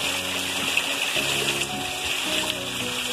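Heavy winter rain in Ibiratinga sends water rushing and gushing steadily, a loud continuous flow close by with no voices.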